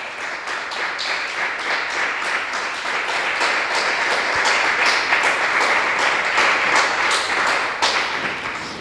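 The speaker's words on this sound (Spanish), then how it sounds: "Damos un aplauso al Señor" A church congregation claps during worship, loud, close applause with a distinct rhythmic pulse as many hands fall roughly in time, sustained for about nine seconds.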